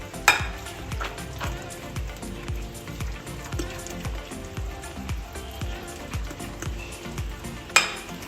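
A spoon stirs thick besan batter in a bowl for bread pakoda, giving a steady, close rhythm of scraping strokes with a couple of louder knocks against the bowl, no voices.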